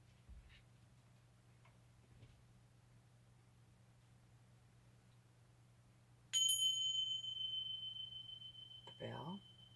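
A bell struck during a sound healing session rings out sharply and sustains as a clear, steady tone that slowly fades, heard close and alone over a quiet low hum, with a brief voice near the end.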